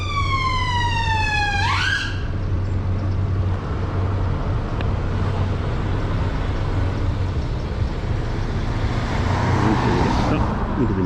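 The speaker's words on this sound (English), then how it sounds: "here's an ambulance coming." An ambulance siren wails close by for about two seconds, rising and falling, heard from a moving Aprilia SR GT 125 scooter near traffic lights. It cuts off, and steady engine and road rumble continues.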